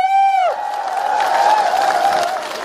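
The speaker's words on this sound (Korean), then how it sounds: "힘찬 박수 부탁드리겠습니다." A rally crowd at a Democratic Party campaign event in Mokpo claps and cheers after a held sung or amplified tone fades, a loose patter of applause continuing for a couple of seconds.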